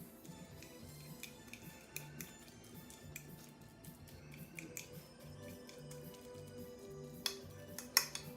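A fork repeatedly tapping and scraping against a bowl while avocado is mashed, irregular clicks and squishy presses, close up, no talking.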